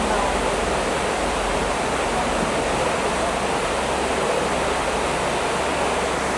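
Steady broadband roar of a rushing river where rafting takes place, continuous and loud, filling the whole clip without change.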